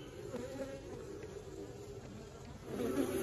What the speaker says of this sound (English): The bees aren't real happy about this, but it'll be okay.